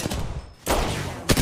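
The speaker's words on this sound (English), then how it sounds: "Opening fire." Gunfire in Apex Legends, loud close bursts of rapid shots, first a burst, then a brief gap, then another sustained burst ending in a sharp final crack, with no talking.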